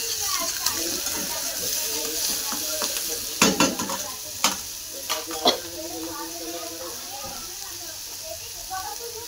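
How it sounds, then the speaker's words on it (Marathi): Onion frying in a pan for a dry horse gram sabzi, a loud steady sizzle close by, broken mid-way by several sharp clanks and scrapes of a spatula stirring against the pan. "आता कांदा तळून घेऊ। कांदा एकदम लाल जर तळून घ्यायचा"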